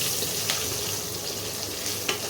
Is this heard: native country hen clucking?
no